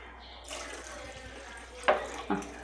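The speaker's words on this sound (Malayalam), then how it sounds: "മീൻകറിക്കുള്ള വെള്ളം നമ്മൾ ഒഴിച്ചു ആവശ്യത്തിനുള്ള" Water poured into a pan of sardine fish curry, a soft brief splash and trickle that is fairly faint, ending with a couple of small clinks.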